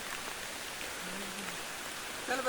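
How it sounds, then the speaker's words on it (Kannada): Heavy monsoon rain falls steadily around Surya Kalyani Gudda near Yellapur, a dense even hiss of drops on surfaces that continues without a break at moderate loudness, with no voices. "ಮಳೆ ಜೋರ ಆತದ ಗಾಯ್ಸ್"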